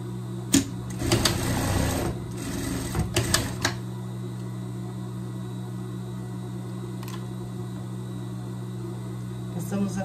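Sewing machine stitching a seam on a ribbing neckline: a short burst of rapid mechanical whirring near the start, then a few brief stitch bursts over a steady low hum, close and fairly quiet.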